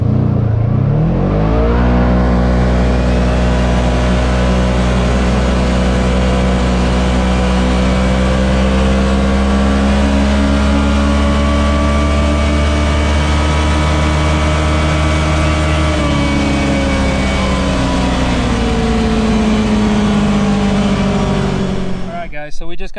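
A Kawasaki KRX side-by-side on stock tires and stock clutching pulls hard from a standstill to 60, its engine droning loud and steady with rising pitch, a brief shift-like dip partway through, then easing off at the end.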